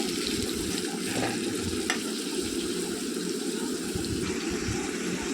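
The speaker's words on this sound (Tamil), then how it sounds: "நான் ஃபுல்லாக வெங்காயம் பூண்டு எல்லாமே போட்டுட்டேன் போட்டு கொஞ்சம் ஒரு டூ மினிட்ஸ் வந்து வதக்கி விட்டுட்டு" Onions and garlic sauté in a pan for a village-style chicken uppu curry, giving a steady, dense sizzle with occasional stirring scrapes, close and continuous throughout with no talking.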